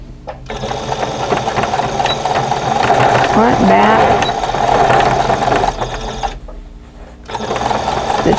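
A sewing machine stitches a face mask with a pocket, running in a fast steady whir for several seconds, pausing briefly, then starting again, close up while someone talks.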